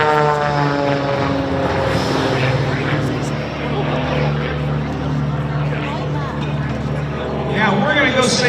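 Aerobatic propeller airplane at an air show in Owensboro, a loud steady engine drone with harmonic hum throughout, swelling slightly near the end, while a voice talks over it.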